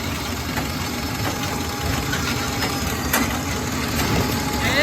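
A hay-baling tractor's engine runs steadily, a close, continuous mid-pitched drone with faint rattles and a few clicks throughout.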